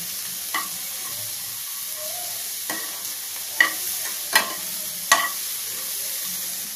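Sweet corn being stirred with salt and spices in a pan for masala sweet corn: a soft sizzle underneath, with a few sharp scrapes and taps of the spoon against the pan spaced a second or so apart.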